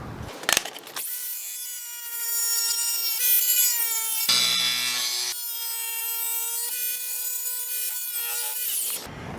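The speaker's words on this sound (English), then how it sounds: "We will quickly miter this edge of the marble." A Montolit diamond wheel grinds a miter along a marble edge, producing a loud, steady high-pitched whine that runs for several seconds before cutting off, with a few brief knocks at the start and end.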